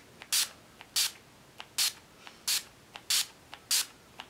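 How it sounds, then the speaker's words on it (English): Urban Decay All Nighter makeup setting spray misted in a run of about eight short, sharp hissing bursts spaced roughly half a second apart, close up with no talking. "I'm going to set the face with my 6th Urban Decay product. The Urban Decay All Nighter Makeup Setting Spray."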